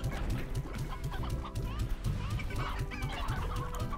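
Chickens cluck repeatedly in the video game Slime Rancher, a busy rhythmic chorus of short calls that is close and fairly loud over a dense background of game noise.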